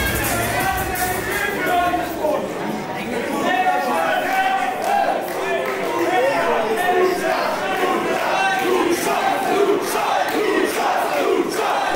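Wrestling crowd at an Unlimited Wrestling show chanting "Lucha" in a loud, rhythmic, continuous group chant throughout, with arena reverberation and no clear single voice.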